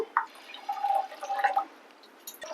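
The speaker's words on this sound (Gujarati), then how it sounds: "અને આપણે આમાં 3 કપ પાણી લેશું." Water is poured into a pan of ghee, semolina and sugar while making rava shiro, a brief, quiet trickle and splash lasting under two seconds before fading out.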